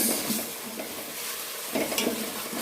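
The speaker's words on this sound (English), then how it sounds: "And then just mix the salt." Salt is mixed into a pot of cooking matoke bananas with tomatoes; a spoon scrapes and stirs through the food over a steady sizzling hiss, close and moderately loud, with no voices.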